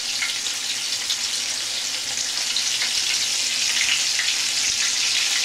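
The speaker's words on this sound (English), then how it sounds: "lay it in the oil facing away from you so you don't splash yourself" Chicken fried steak sizzles in hot oil in a pan on medium heat, a steady bright crackling hiss that stays loud and even without any talk.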